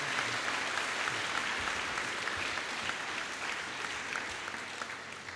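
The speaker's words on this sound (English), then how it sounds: "ladies and gentlemen, please continue your applause for our Chief Officer and the High Sheriff of Hampshire" Sustained applause from a seated audience at a fire brigade trainee graduation ceremony in Hampshire, steady and dense for the full stretch at moderate distance, with no voices over it.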